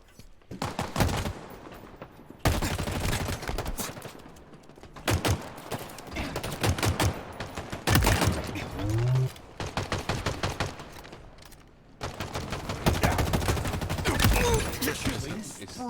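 Video game gunfire comes in long bursts of rapid automatic shots, loud and close, broken by short pauses, with a voice talking briefly between the volleys.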